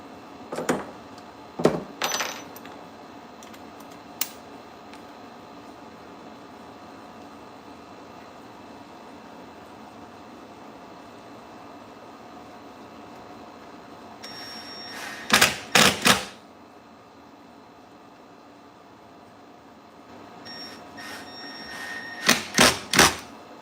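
Screws are driven tight on a Tesla Model S door handle motor during a repair, with short clicking ratchet-like bursts in scattered groups, close and crisp over a steady low hum.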